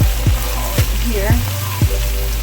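Shrimp fry in a hot pan with a steady sizzle, broken by several quick scraping stirs and clinks of a utensil; no one talks.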